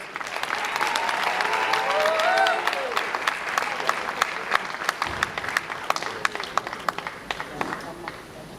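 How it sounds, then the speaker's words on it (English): An audience at the Milestones of Freedom campaign event with the President applauds in a steady, dense wash of clapping that thins into scattered individual claps near the end, with a brief voice early on. "Another round of applause."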